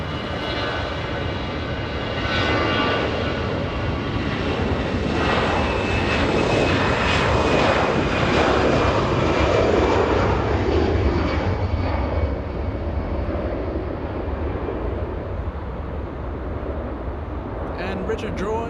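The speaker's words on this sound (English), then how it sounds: "Alaska Airlines getting a move on, flying to Seattle, Washington, Alaska 431. That's an A320." An Alaska Airlines Airbus A320 departing Los Angeles International Airport, its jet engines roaring steadily and loudly for the whole stretch, then slowly fading as it moves away.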